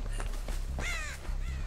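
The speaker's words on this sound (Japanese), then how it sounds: "やべえ、カラス鳴いちった。" A crow caws in the Dead by Daylight horror game, a few harsh raspy calls close by over a steady low in-game ambient hum, with no talking.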